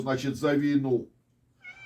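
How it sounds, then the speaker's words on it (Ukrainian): A cat meows loudly and drawn-out close by while someone talks over it in Ukrainian, then a shorter, higher mew follows after a brief pause. "О, це кішка протестує проти варспотінгу."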